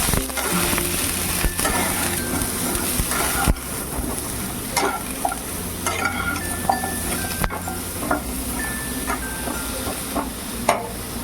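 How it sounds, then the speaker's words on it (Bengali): Pointed gourd (potol) pieces fry in a pan with turmeric and a little sugar, giving a steady sizzle broken by frequent spatula scrapes and metal clinks against the pan. "পটলটাকে একটু ভেজে নেব যাতে পটলটা নরমও হয় এবং ভাজা ভাজাও হয়"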